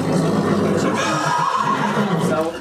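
A mare whinnies in a loud, sustained neigh during a pregnancy check with her foal nearby, with people talking over it.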